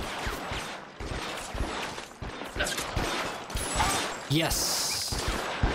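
Rifle shots crack out in a firefight in the 1940s crime game L.A. Noire, sharp repeated reports scattered through the scene, mixed with mechanical clatter and someone talking over the action.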